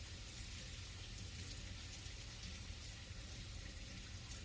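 Water from a tap runs steadily into a sink as it slowly warms up, a constant even rush with no pauses.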